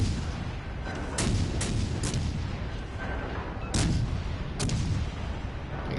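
Gunfire at an enemy ship in a PS4 naval combat game, a few heavy booming shots over a constant low rumble of battle noise.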